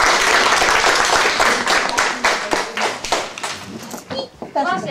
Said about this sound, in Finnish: Annetaan aplodit vielä itselleen.